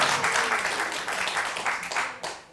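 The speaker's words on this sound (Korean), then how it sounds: "박수" A church congregation applauding at a Sunday revival service, a thick burst of many hands clapping that swells and then tapers, fairly loud and close.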